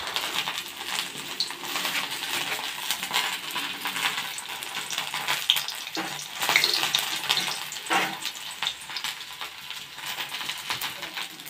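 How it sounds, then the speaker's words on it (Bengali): Bay leaf, dried red chilli, radhuni, panch phoron and ginger sizzle in a little ghee as a tempering for lentil dal, a continuous crackling fry broken by occasional metallic clinks from stirring. "তো আমি মশলা হিসেবে দেবো ওই ডালের মধ্যে তেজপাতা, শুকনো লঙ্কা, রাঁধুনি, পাঁচফোড়ন, আদা, আর দেবো সামান্য পরিমাণ একটু ঘি।"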